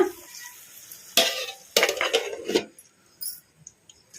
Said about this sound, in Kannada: ನುಗ್ಗೆಕಾಯಿನ ಒಂದೆರಡು ನಿಮಿಷ ಎಣ್ಣೆಗೆ ಫ್ರೈ ಮಾಡ್ಕೊಂಬಿಡೋಣ